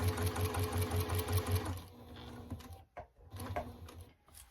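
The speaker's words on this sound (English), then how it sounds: "I'm going to continue sewing until I get to that pin." A sewing machine stitches binding onto a quilt in a fast, even mechanical chatter, then slows and stops, followed by a few softer bursts of stitching and handling clicks up close.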